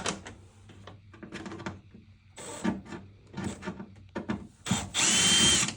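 A power drill whirs in short bursts while removing the screws from a plastic panel on a Daikin VRV cassette air conditioner, with clicks and handling noise between runs and a longer, louder burst at the end.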